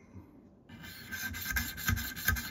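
A steel knife drawn across a 200-grit sharpening stone, rhythmic scraping strokes that swell into louder rasping passes, close and alone with no voices.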